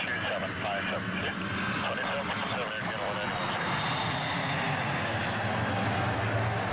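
An airplane engine roars steadily in a cartoon construction vehicle game, a loud continuous drone with a voice talking over it throughout.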